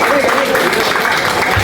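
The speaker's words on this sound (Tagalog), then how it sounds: "Palakpak ka pa. Palakpak ka pa ha." Applause from a group at a farewell gathering for a retiring colleague, a steady dense clatter of hands running throughout, mixed with voices talking over it.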